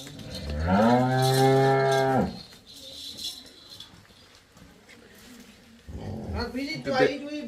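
A dairy cow with its calf nearby lets out a long, loud moo up close, then quieter farm noise follows and a person begins talking.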